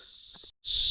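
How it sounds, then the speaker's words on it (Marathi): Crickets chirp inside dry Karvi shrubs on the slopes of Gorakhgad Fort, a steady high buzzing trill that stops for a moment and then returns louder and closer, with no voices. "यांच्या आतमध्ये सध्या रातकिडे किडे आहेत ज्या नॉईज करत आहेत"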